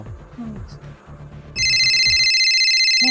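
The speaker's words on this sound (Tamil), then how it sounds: "ஃபோன் வருதுண்ணே." A Chinese mobile phone starts ringing with an incoming call, a loud, bright electronic ringtone that cuts in after people talking and holds steadily to the end.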